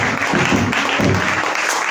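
A church congregation at a Tuesday worship service breaks into loud, sustained applause, dense clapping from many hands filling the room throughout.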